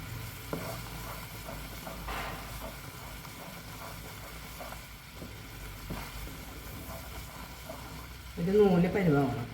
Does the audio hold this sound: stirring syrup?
yes